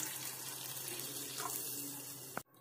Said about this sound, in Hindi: अब इसमें हम पानी ऐड करेंगे तो 1/2 गिलास हमें इसमें पानी ऐड करना है।